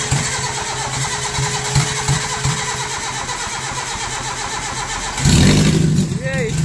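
A car engine in a garage, just repaired after failing to start, cranks with a rapid chattering starter and then catches with a sudden louder burst before settling. Voices talk over it throughout.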